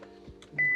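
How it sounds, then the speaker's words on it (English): A short electronic confirmation beep from a Ferrari California during diagnostics with an Autel scan tool, a steady tone arriving near the end over a low cabin hum. "Get a confirmation beep from there."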